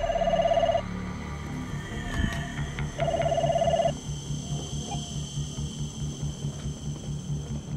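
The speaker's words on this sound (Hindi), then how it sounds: "आप अफजल भाई को फोन लगाओ, हम बात करेंगे।" An electronic telephone rings in two short trilling bursts separated by a pause, over a low steady hum and faint background noise.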